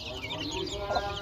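Chickens cluck close by in a brief burst of short, throaty calls, with someone talking over them.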